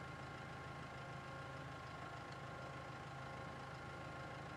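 A tractor engine in Farming Simulator 22 runs at a steady idle, a constant mid-to-low hum with faint knocking texture and no talk over it, while a mower is lowered for mowing on a horse farm.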